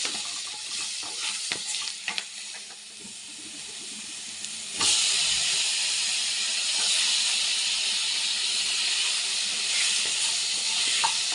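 Round brinjals fry in a pan with a steady loud hiss and sizzle, which swells sharply partway through and holds strong, with a few small clinks from stirring and no talking.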